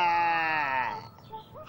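A person imitates a sheep's bleat with a long, quavering, strained voice for about a second, then trails off into softer breathy sounds.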